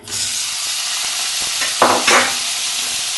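Tomato stirred into vegetables frying with turmeric and red chili powder for a pointed gourd sabzi: a loud, steady sizzle with two sharp bursts of scraping and stirring in the pan near the end.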